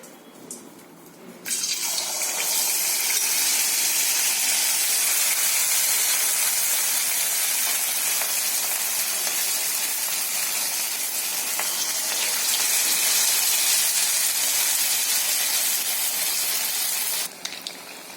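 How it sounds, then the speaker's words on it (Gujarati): Dosa-batter-coated rolls deep frying in hot oil, a loud steady hiss and gush of bubbling that starts abruptly after a quiet moment and continues unbroken to the end, with no voices. "હવે તેને આપણે જે ઢોસાનું બેટર લીધું હતું તેમાં બોળીને તળી લઈશું"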